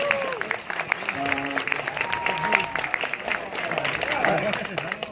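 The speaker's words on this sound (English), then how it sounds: "Another round of applause for these guys here." An audience at a 30th anniversary Halloween 4 Q&A gives a steady round of applause and clapping, heard fairly close, with voices talking over it throughout.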